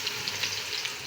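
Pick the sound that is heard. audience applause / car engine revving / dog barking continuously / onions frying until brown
onions frying until brown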